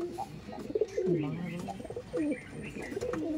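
Madras pigeons coo repeatedly in low, throaty rolling calls, close by, with a few faint chirps and some background rustle.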